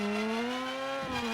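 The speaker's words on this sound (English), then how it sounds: "Now we can back into the throttle again" A car engine accelerating in the Screw Drivers video game, a steady rising drone that holds loud and even, with a slight dip and change in tone near the end.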